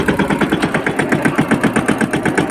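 A mini tractor engine runs close by with a steady, rapid rhythmic chugging and loud mechanical pulses, with no talk over it.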